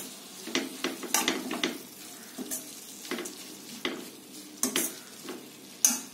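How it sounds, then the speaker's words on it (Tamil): Drumstick leaves are sautéed in a pan for a Tamil-style dal, with soft sizzling under repeated sharp scrapes and clinks of a spatula stirring against the pan, close and fairly quiet. "முருங்கக்கீரை சேர்த்துட்டு 1 நிமிஷம் நல்லா வதக்கிக்கோங்க"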